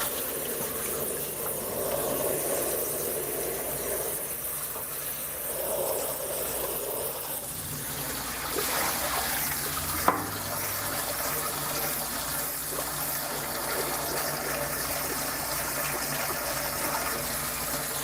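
Steady jet of water rushing and splashing over construction sand held in stacked sieves, a continuous broadband gush running throughout at close range with one brief clack partway.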